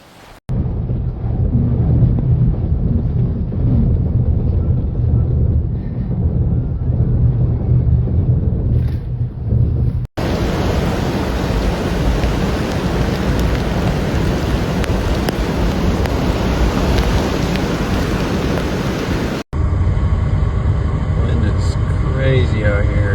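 Tropical Storm Arthur's strong winds and storm-surge waves pound the Texas coast with a loud, continuous roar of wind buffeting the microphone and crashing surf, filling every moment without letup.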